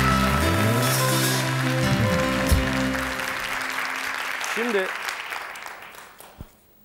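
Studio audience applause rolling through a television show set, a dense crowd clapping that fades toward the end while someone talks over it.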